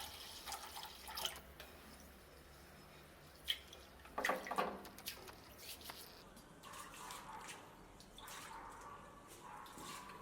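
Rice is washed by hand in a bowl of water. Soft, intermittent splashing and sloshing come in a few short bursts amid quiet dripping, close but faint, with no voices.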